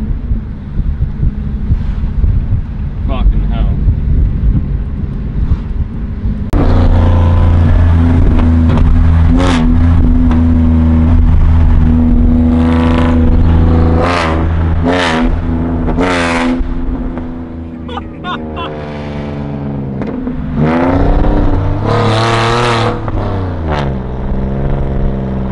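A straight-piped Holden SV6 Commodore V6 revs hard and accelerates, its loud, raspy exhaust rising and falling in repeated surges, close by with wind buffeting the microphone.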